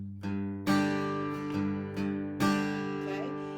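Acoustic guitar plays a bouncy hick-hop groove: single bass notes plucked twice, then loud full strums ringing out, repeating in a loose rhythm with no talking.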